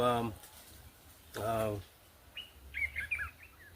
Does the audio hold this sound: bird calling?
yes